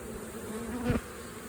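Honey bees buzzing at an opened hive during an inspection, a steady low hum of many bees with one louder individual passing close near the middle, no talk.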